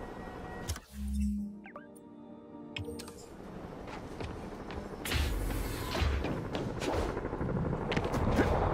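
Gunfire in a Spider-Man video game shootout, with sharp bursts and a rapid crackle of shots over a busy mechanical backdrop; a loud burst early, then denser firing toward the end.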